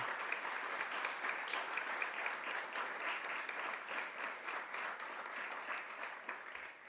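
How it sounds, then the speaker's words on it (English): A round of applause for panel speakers at an event celebrating Baruch S. Blumberg, sustained even clapping from a seated audience, fairly quiet and distant with no talk over it. "Can we have a round of applause, please, for the speakers?"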